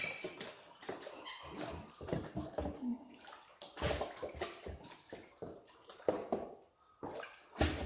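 Water splashing and running while a Dream Mat tray is rinsed out after a cube capture test, a steady busy wash with bursts of spray and clatter throughout.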